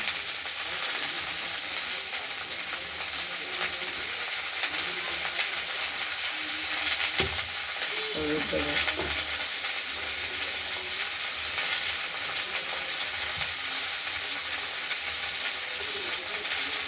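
Chopped flat beans fry in a wok with salt and turmeric, giving a loud, steady sizzle throughout. Stirring scrapes and clatter rise briefly near the middle.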